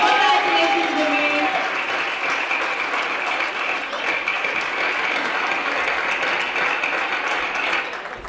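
Audience applause at the 2016 Aadhar Shree Paints annual award ceremony as a prize winner is called to the stage: dense, steady clapping from a large crowd that holds for about eight seconds, then thins and cuts off.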